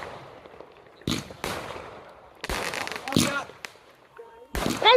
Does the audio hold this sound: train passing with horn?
no